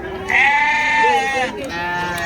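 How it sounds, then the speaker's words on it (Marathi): A sheep gives a loud, drawn-out bleat close up, followed by a shorter wavering cry amid farmyard noise at a sheep market in Kashti. "अशा प्रकारच्या मेंढ्या आणि बालिंगे तुम्हाला पाहायला मिळतील"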